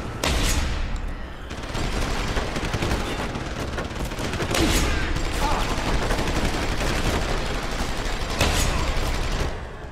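Gunfire in the video game Deus Ex: Human Revolution, rapid bursts of shots crackling over dense game noise, loud and continuous with several sharper volleys.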